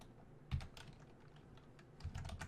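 Computer keyboard keys tapped while a code comment is typed, quiet clusters of clicks with a pause in the middle and a denser burst of keystrokes toward the end.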